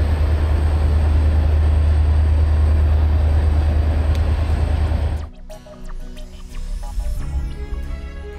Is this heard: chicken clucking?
no